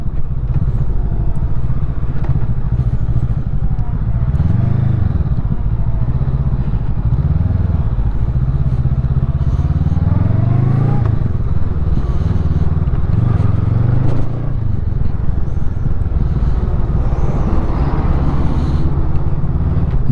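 Honda CMX500 Rebel motorcycle filtering past traffic, its engine droning steadily close up throughout with shifting pitch and surrounding road noise, no talk.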